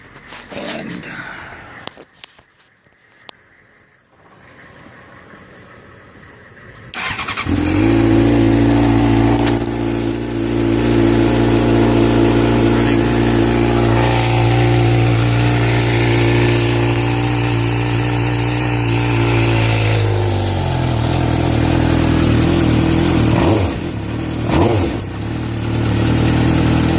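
Cold start of a 2006 Suzuki GSX-R 600 motorcycle engine: a few seconds of quiet handling, then the engine fires loudly at about seven seconds and settles into a steady, close idle that runs to the end.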